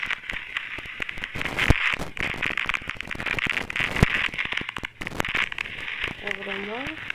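Green chilies sizzle and crackle in hot oil in a South Indian home kitchen while making sambar rice, a steady close frying hiss with sharp pops, and a voice speaks briefly near the end.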